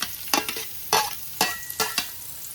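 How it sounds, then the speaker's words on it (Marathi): Onions stir-fried in a pan with curry leaves for an Agri Koli style clam curry, sounding as four or five sharp scraping stir strokes over a quiet sizzle, close and alone. "कांदा लाल होतपर्यंत परतून घ्यायचा."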